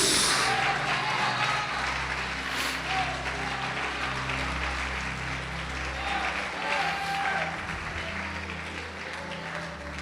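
A church congregation applauding during a sermon, a steady wash of clapping that runs the whole ten seconds over a low, rumbling hum, with faint voices mixed in.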